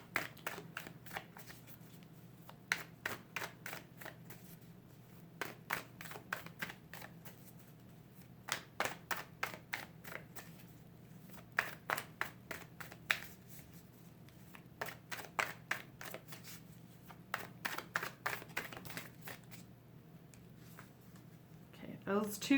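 A deck of tarot cards being shuffled by hand, soft repeated riffling bursts in irregular clusters, close and quiet, with occasional low talking in between.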